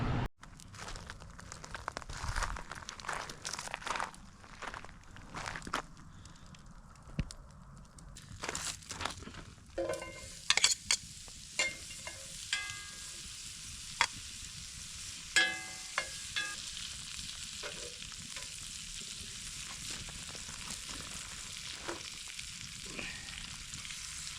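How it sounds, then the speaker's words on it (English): Venison tenderloin sears in a cast iron pan at deer camp, a soft sizzle with crackling bursts and some handling noises and rustles, moderately quiet and without talk. "Probably sear the tenderloin, and maybe put them in finish them off in the cast iron pan"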